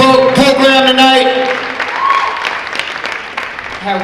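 An audience at a Faces of Cancer Coalition evening event breaks into applause, dense clapping that swells early and then thins, heard over a person talking at the start.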